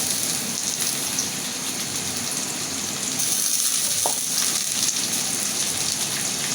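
Shrimp frying in oil with garlic, onion and green chilies for a taro stem dish, giving a steady, even sizzle that carries on throughout with no voices.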